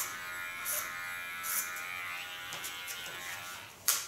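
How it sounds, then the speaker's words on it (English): Small electric hair clipper trimming the sides of a head, a continuous thin buzz held steadily with brief louder surges as it passes over hair, close and alone. "Clean first with a small clipper the sides"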